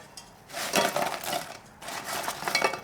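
Fried Korean honey cookies (yakgwa) being stirred with sweet syrup in a bowl, two bursts of clinking, scraping utensil-on-bowl sounds separated by a short pause, fairly quiet and close.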